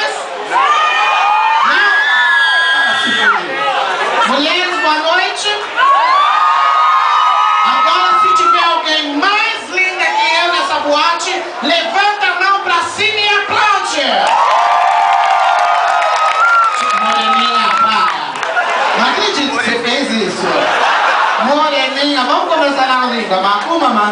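Live audience at a Brazilian stand-up comedy show cheering, whooping and clapping in a loud, continuous crowd roar with shouts and high-pitched yells throughout, voices rising and falling.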